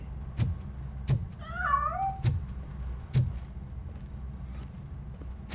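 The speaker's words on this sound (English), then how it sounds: "That cat must be hiding inside." A cat meows a few times in the video game RoboCop: Rogue City, a short wavering cry near the middle, set among several sharp thumps and a low steady rumble.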